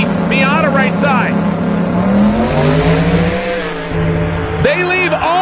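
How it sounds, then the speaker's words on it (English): A turbocharged Mustang and a Miata launch side by side at a drag strip, engines revving loudly and rising in pitch together, with a track announcer talking over the roar. "They leave almost together, and they stay together to the top end of the racetrack"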